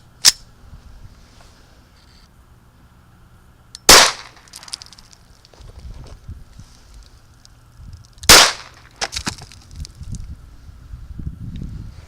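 Gunshots from a 1911 pistol at a shooting range: three loud, sharp cracks spaced roughly four seconds apart, with quieter handling clatter and faint movement between shots and no talking.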